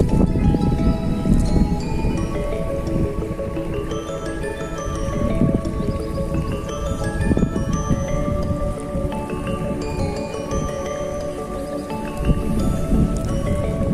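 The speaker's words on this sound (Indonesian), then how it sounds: "Dan hujan ini sangat membantu ya, karena 3 sampai 4 hari itu tidak ada turun hujan sehingga kering ya." Rain pours steadily over a rice field, a dense continuous patter of drops on water and plants, with scattered tonal sounds in the background.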